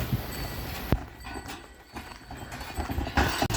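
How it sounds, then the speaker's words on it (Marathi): A bullock cart rolls through a village toward a farm field, its hooves clip-clopping in sparse, uneven knocks over a steady background rumble, moderately close. "अशी बैलगाडी घेऊन जातो बघा आम्ही."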